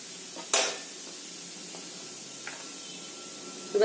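Onion drops into a pan of frying garlic and jackfruit, a sudden loud sizzle and clatter that settles into a softer steady hiss with a few light stirring scrapes and a final clink of utensils.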